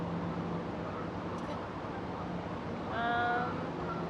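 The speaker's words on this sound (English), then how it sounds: "there's a lot of truck activity on the road behind us" A steady roar of truck traffic comes from a road behind a riverside waterfront, a constant broadband rumble in the middle distance, with a brief honk-like call rising above it.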